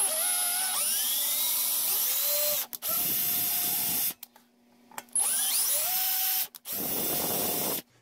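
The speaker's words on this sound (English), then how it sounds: "And then what I'm going to do is run this through the hole to make threads." Power drill on low speed running a tap to cut threads in a hole, a whining motor that rises and falls in two long runs with a brief break between them.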